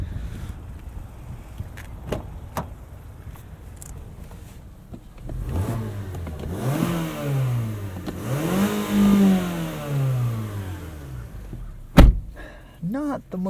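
A 2017 Mazda6 Grand Touring car engine starts and revs up and down a few times, rising and falling in pitch, with a door clunk near the end.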